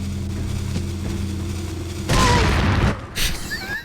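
A sudden loud explosion bursts in the video game Resident Evil 4, a heavy rumbling blast that cuts through a steady game-music drone and decays over about a second, followed by a smaller burst.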